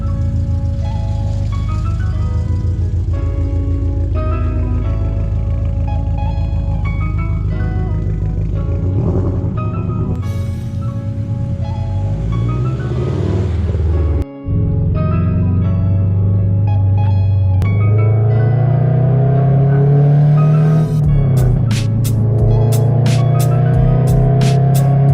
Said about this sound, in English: let's go ahead and get the car started up and we'll head out